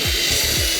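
A core drill bores into the ground while a fence railing is installed, giving a loud, steady grinding hum with a few rhythmic low sweeps from the spinning bit and no talk.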